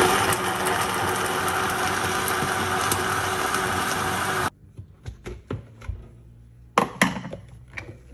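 A blender whirs loudly and steadily for about four seconds while blending a green juice with strawberries, then cuts off, followed by scattered clatter and handling knocks.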